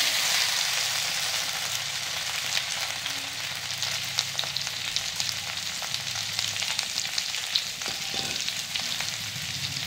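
Okra frying in a pan with garlic and green chilli, giving a steady, close crackling sizzle with small pops throughout.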